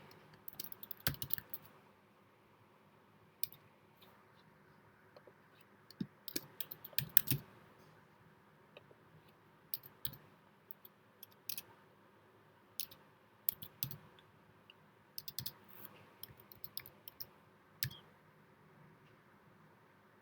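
Keys are typed and a mouse clicks on a computer during account sign-up, quiet close taps in scattered bursts with pauses, no voices present.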